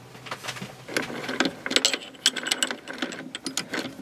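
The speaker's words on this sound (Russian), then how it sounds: "Сначала мы попробуем на станочке, как берет резец и можно ли" Small metal lathe running as a cutting tool bites into a workpiece, a rapid irregular clatter of mechanical ticks and scraping over a low motor hum, close and moderately loud.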